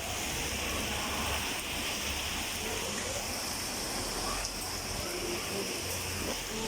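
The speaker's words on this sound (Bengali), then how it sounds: "খুব বৃষ্টি আছে খুব জোরে বৃষ্টি আছে গুরুতর বৃষ্টি" Heavy rain pours down outdoors, a dense, steady wash of noise throughout with no break, close and fairly loud.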